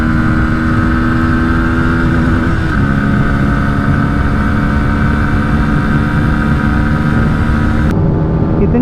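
A 2024 Bajaj Pulsar NS160 accelerates in fourth gear during a drag race against a TVS Apache 160 2V, giving a loud, continuous engine drone at close range whose pitch shifts slightly a couple of times.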